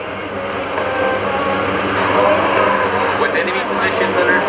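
A 150,000-pound military transport aircraft roars through an assault takeoff at a Rhode Island Air National Guard airshow combined arms demonstration, its engines loud, close and continuous throughout.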